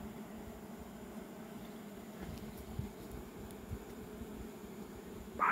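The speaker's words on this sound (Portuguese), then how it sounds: "Maria do céu, que tamanho de abelha é essa, hein?" Large wild bees in a nest inside a hollow in the bush, giving off a steady, faint buzzing drone throughout with no talk over it.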